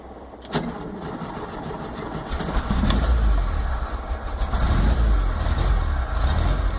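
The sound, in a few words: VW T25 campervan engine cold starting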